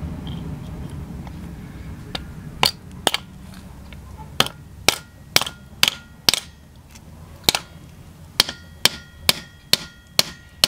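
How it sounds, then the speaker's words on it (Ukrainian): A rubber mallet strikes a punch to form a metal fishing lure, more than a dozen sharp, close knocks coming in an uneven rhythm over a quiet background. "Ось таким резиновим молотком буду формувати"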